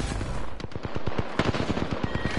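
Rapid automatic gunfire in a shooter video game, a dense burst of sharp, closely spaced shots rattling loud and continuous for a couple of seconds.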